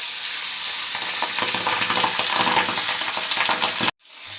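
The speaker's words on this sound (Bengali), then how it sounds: "পাবদা মাছ তেলের পরে দিলে খুব ফাটে" Pabda fish frying in plenty of hot oil, a loud, dense crackling sizzle with constant spattering pops close by, cutting off abruptly near the end to a quieter hiss.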